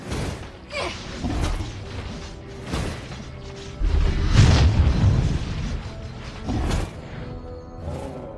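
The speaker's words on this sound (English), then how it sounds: "Our turret has been destroyed." A booming explosion from a destroyed turret in a mobile battle arena game rises over a low rumble amid other game effects and announcer-style voice cues.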